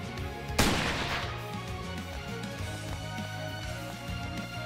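A single loud sniper shot from the Snowowl character in the video game StarWard, a sharp blast with a long ringing decay, set over steady game background music.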